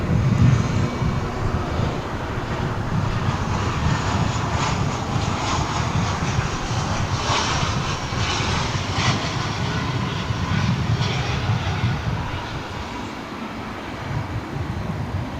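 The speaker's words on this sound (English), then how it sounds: "American Flight 2862 arriving from Wichita, Kansas. An Airbus A320." An American Airlines Airbus A320 arriving at DFW International Airport from Wichita produces a loud, continuous jet roar that holds steady before easing slightly near the end.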